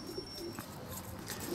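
Pigeons at a Greek pigeon club loft cooing softly with a few brief wing flutters, a steady low murmur of birds throughout at moderate distance.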